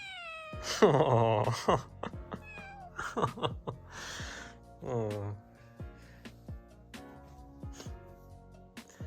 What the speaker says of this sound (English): That's really very, very cute cat.